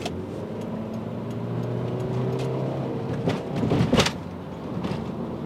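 Inside a moving Volkswagen Beetle, a steady low engine drone hums with a rising tonal whine, then a brief louder rattle and rush of road noise.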